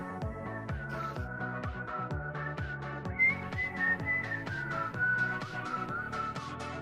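A person whistles a wavering, sliding tune during a Minecraft session in the Nether, the whistle continuous and close over steady, rhythmic background music with no talking.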